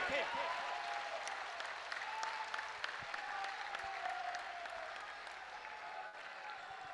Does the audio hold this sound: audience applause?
yes